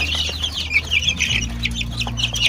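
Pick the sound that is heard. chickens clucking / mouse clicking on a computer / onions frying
chickens clucking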